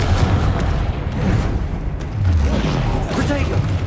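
A Confringo explosive spell blast in the Hogwarts Legacy video game, heard as a dense, continuous rumble of booming impacts that stays loud throughout and carries no speech.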